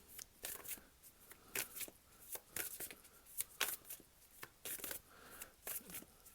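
Tarot cards are shuffled close by in a steady rhythm of quick riffling, snapping bursts separated by brief gaps, with no voices.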